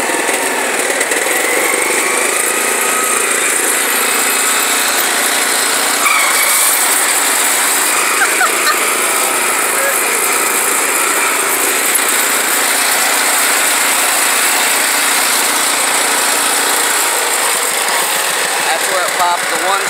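A 1968 International Cub Cadet 482 garden tractor engine roars steadily and loudly up close through a wheelie, a harsh continuous drone that holds throughout with little change.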